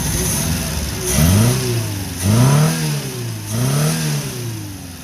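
Engine of an odd old car, revived after sitting, idling smoothly with the radiator fan running, then three strong throttle blips that rise and fall quickly, loud and close, over a steady idle.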